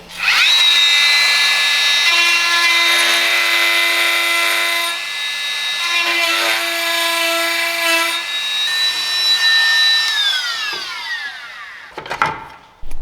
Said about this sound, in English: So the last resort is cut the piece of plastic and the bolt and then get it out.